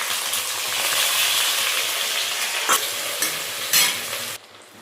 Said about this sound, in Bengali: এখানে কেটে রেখেছি পেঁয়াজ, লঙ্কা, টমেটো ভাজা করার জন্য দিয়ে দেব